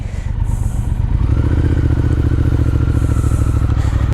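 A Triumph Speed Twin motorcycle engine turns over and settles into a steady, loud idle with a throbbing low rumble and mechanical clatter, close by and without talk.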